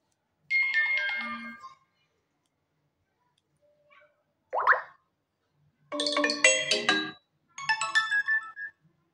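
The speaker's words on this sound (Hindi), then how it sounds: "नोटिफिकेशन रिंगटोन प्ले करके" Several short notification tones play one after another on an iQOO 7 5G phone, with silent gaps between them, each a bright electronic chime or jingle, clear and close.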